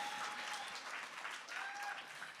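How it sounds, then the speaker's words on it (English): An audience at an award ceremony claps steadily throughout, fairly quiet and distant, a continuous wash of hands with no voices over it. "Clap it up."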